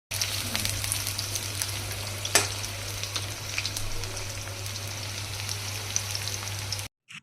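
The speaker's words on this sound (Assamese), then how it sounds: "কেৰাহীটো গৰম হোৱাৰ লগতে তেল ঢালি আপোনাৰ পিঁয়াজ চিয়াজ দি দিয়া হৈ গ'ল" Onions sizzling in hot oil in a wok, with a few whole cumin seeds added. A steady, moderately loud frying hiss runs throughout with a low hum underneath and one brief sharp crackle partway through.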